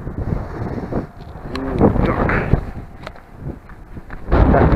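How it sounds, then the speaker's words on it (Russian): Strong wind gusting and buffeting the microphone in low rumbling surges at sunset on Tsarev Kurgan hill in Samara, with a few brief knocks and a faint voice. "Ух, какой ветер, опять какой ветер"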